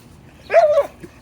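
A family guardian type dog, bred to resemble wolves, gives a single short, close bark, followed by a faint soft sound.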